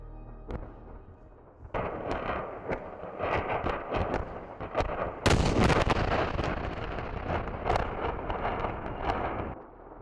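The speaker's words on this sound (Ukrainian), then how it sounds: "Чути по кілька розривів за секунду." Rapid, continuous blasts and crackling detonations of ammunition exploding at an arsenal in Balakliia, Ukraine, several per second, with a sudden louder surge midway; a dense, roaring barrage heard from a distance.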